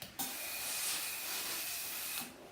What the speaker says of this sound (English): Maybe it's too much steam